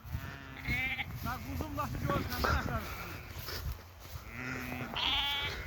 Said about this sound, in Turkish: bu sənə nə qədər boğaz qoyun var?